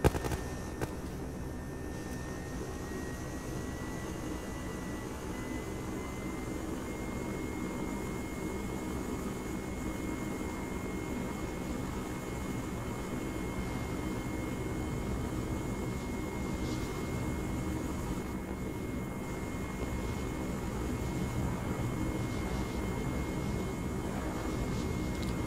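Helicopter flying in the combat game ARMA 3, a steady broadband engine and rotor drone with a faint high whine, continuous and fairly near throughout without talk.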